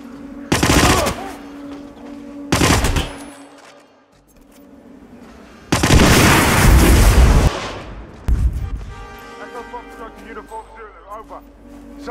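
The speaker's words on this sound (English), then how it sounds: "Someone is setting off explosions in my vicinity." Loud bursts of rapid gunfire and heavy booming explosions in a Hitman video game come in several separate waves, with quieter stretches between them and some talking in the background.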